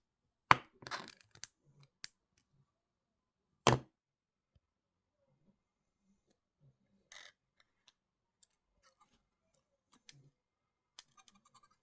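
Wire cutters snip jewellery wire while making earrings, a sharp close click followed by a few small ticks and handling taps, then near silence with faint scattered touches.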